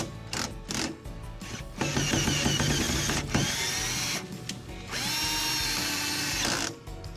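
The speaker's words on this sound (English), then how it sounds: "And now we're going to switch to the 12V drill." A Black & Decker 12V cordless drill drives screws into a gate in a few bursts of loud motor whine, with short pauses and speed changes between runs.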